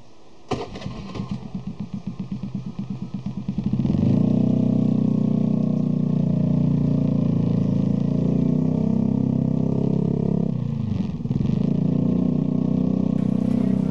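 A 2014 Honda BeAT 110 scooter's engine cranks with a fast rhythmic starter chatter for several seconds, catches, and then settles into a steady, even idle through the exhaust, close and alone.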